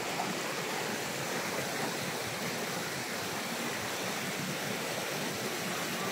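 A cold mountain stream at a resort in Mainit, Nabunturan, Davao de Oro rushes in a steady, dense broadband wash of flowing water, close and continuous with no voices.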